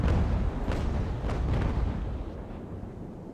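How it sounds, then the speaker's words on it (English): Ship cannon fire in Ultimate Admiral: Age of Sail, a naval battle game, with deep rumbling booms that roll and overlap into a long, heavy barrage before slowly fading. "Shots are going wild."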